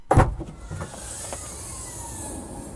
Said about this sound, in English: Getting to the trunk of the CX-5, it definitely has a very nice and high opening as you just now saw.